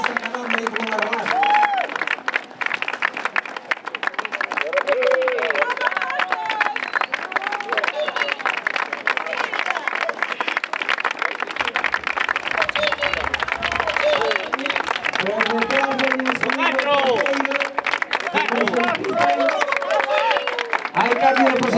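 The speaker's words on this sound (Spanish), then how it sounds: "Podedes aplaudir, non se gastan." A crowd of spectators claps and cheers at the finish of an open-water swim crossing around Illa de Rúa in Ribeira, with continuous applause and loud talking voices over it throughout.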